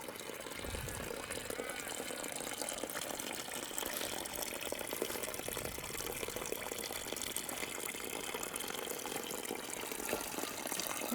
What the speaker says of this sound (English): Another little waterfall.